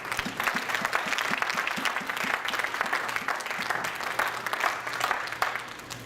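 A church congregation applauds in praise, with dense, sustained clapping and a quick rhythmic beat running through it, close and full for the whole stretch.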